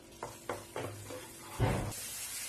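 Carrot halwa being stirred in a pan, a few soft separate scraping strokes followed by one louder thicker scrape and a faint sizzle, close and quiet with no talk.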